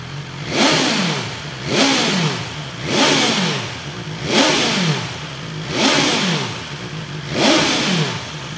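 A motorcycle fitted with an Akrapovic slip-on exhaust revs hard to 8,000 RPM six times in a steady rhythm, each loud rising blip falling back to a rumbling idle.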